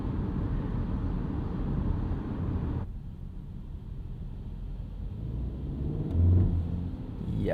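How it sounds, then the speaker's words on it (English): Steady broadband road and tire roar inside a 2024 VW Tiguan S on Goodyear Assurance tires, driving on a rainy day, a constant close hum that drops slightly in level partway through, with a brief low thump near the end. "There is actually a noticeable amount of noise from these Goodyear Assurance tires."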